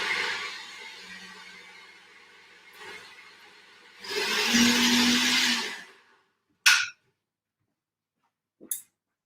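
A blender briefly blitzes muffin batter of vanilla and wet ingredients, a loud steady whir lasting about two seconds after quieter kitchen noise, followed by two short clattering bumps.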